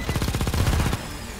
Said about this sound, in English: This one's like more of a machine gun.